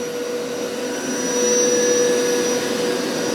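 A Hoover Power Scrub Deluxe carpet cleaner runs steadily, a loud close whining motor with constant suction hiss and a slight swell midway, no talking.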